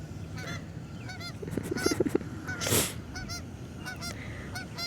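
Geese honk repeatedly in short, bright calls, several birds overlapping at close range, with a louder burst of honking partway through and a steady outdoor rumble underneath.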